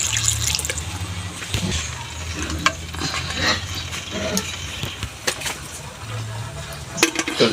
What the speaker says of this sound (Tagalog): Lalagay lang tayo ng tubig. Palambot sa ating karne.